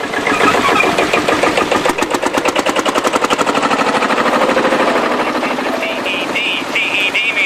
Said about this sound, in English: Lovely sounding engine, this one.